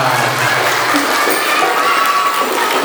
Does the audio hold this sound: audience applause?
yes